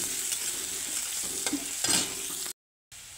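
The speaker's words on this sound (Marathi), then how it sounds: "कांद्याला ब्राऊन कलर येईपर्यंत आपण भाजून घेऊया।" Onions with curry leaves frying in hot oil in a pan for a spicy potato rassa, a steady close sizzle with stirring scrapes, broken by a brief silent gap near the end.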